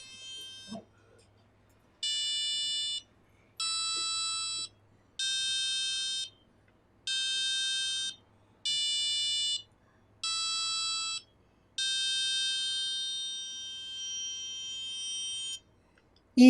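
A programmed buzzer on a classroom robotics kit robot sounds a series of seven evenly spaced electronic beeps, the last held longer, clear and fairly close against a quiet room.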